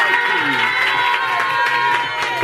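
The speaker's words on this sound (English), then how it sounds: "Let's give a huge round of applause for our advanced large." A large crowd at a cheer competition cheers and applauds, with scattered shouts and a loud, busy wash of clapping and voices.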